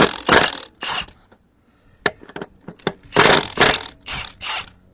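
Lug nuts come off a 1957 Cadillac Fleetwood wheel with bursts of ratcheting clicks and metallic clinks, loud and close, broken by short gaps and a few separate taps.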